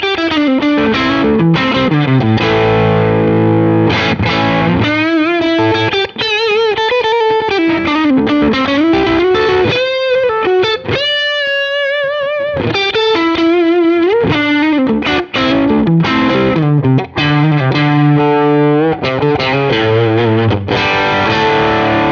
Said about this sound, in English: Let's hear now the compressor with, say, the Tube Screamer.